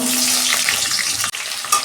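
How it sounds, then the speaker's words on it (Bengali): Potatoes fry in oil in a wok with a loud, continuous close-up sizzle and some stirring scrapes, broken by a brief dip near the end, without speech. "কড়াই তেল দিচ্ছি, হয়ে গেছে। প্রথমে আলুগুলো ভেজে নিই।"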